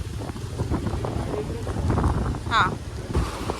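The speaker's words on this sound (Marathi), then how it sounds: "लय मोठी हवा बघा ना जास्त आहे ना तुफानवाली." Strong stormy wind off a rough sea with high waves at a rock garden shore, loud gusty buffeting roar close to the microphone, with a brief voice heard over it.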